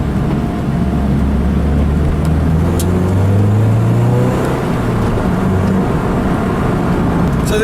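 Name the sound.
Lotus Elise sports car driving on the road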